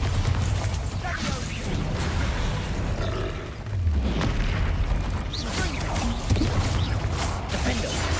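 Bombarda spell blasts in Hogwarts Legacy, booming explosions and rumbling debris mixed with dense combat noise, with a voice calling out in the fight.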